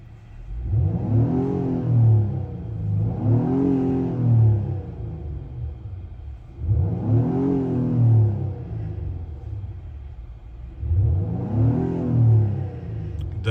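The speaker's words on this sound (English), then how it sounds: "Definitely can hear the intake better now." Engine of a 2019 Acura TLX A-Spec AWD with a K&N air filter revving in four loud, rising-and-falling bursts with short gaps between, stationary in sport mode, intake sound prominent, no talking.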